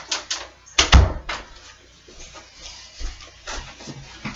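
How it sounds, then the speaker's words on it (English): A door is opened with a sharp latch clunk and creak, surrounded by light shuffling and small knocks nearby. "to open the door to let him out"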